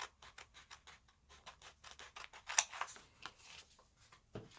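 Scissors cut out fabric baubles for a sewn advent calendar, a quiet close run of rhythmic snipping and rustling cloth with short pauses between cuts.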